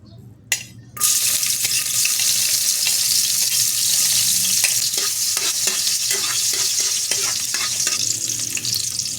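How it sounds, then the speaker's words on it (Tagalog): Garlic sautéing in a hot pan for a Filipino bopis dish, a steady close sizzle broken by scraping stirs and light metallic clicks, beginning after a brief quiet moment. "tayo ay magigisa muna. Siyempre, mauna muna yung mga bawang."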